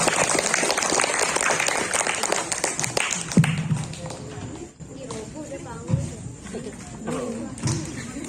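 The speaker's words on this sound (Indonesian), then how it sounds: "Tepuk tangan dulu dong." Audience applause at an Islamic boarding school demonstration event, dense clapping for about three seconds, then thinning out as voices and talk take over.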